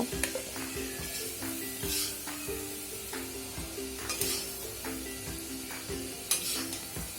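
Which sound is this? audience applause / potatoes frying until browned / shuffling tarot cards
potatoes frying until browned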